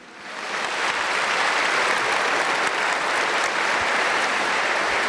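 Dense, steady audience applause at a lay Catholic assembly, rising within the first half-second and then holding loud and sustained with no speech over it.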